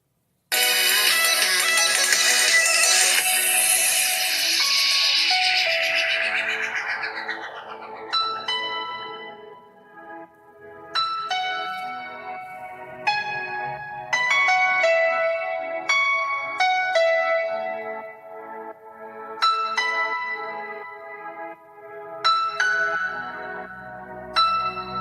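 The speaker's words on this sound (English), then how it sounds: "Listen to the piano." Piano music playing through the single bottom speaker of an LG G6 phone, starting with a dense wash of sound and moving on to clear, bright struck notes and chords that ring and decay.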